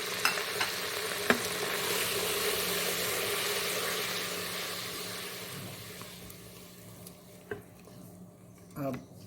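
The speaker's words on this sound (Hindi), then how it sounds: "इसके साथ डालूंगी अदरक लहसुन की पेस्ट और उसके साथ डालूंगी ये सारे नमक मिर्च मसाले" Onions frying with ginger-garlic paste, salt, chili and spices in a pan for a trotters (paya) dish, a steady broadband sizzle with stirring scrapes and a few utensil clinks, fading near the end.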